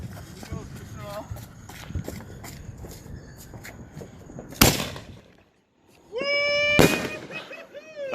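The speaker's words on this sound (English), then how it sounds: "Alright, here goes aerial fireworks." Aerial firework mortars are set off in South Carolina, with scattered sharp pops and crackles, one loud bang, a brief near silence, then a rising whistle and a heavy burst, as people talk and cheer.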